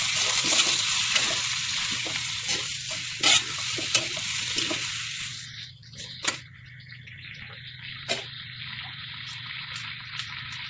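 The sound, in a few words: sautéing boiled native chicken in a pan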